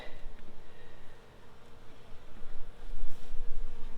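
Honeybees in a second hive body give off a soft, steady buzzing drone that swells slightly and is heard alone at close range.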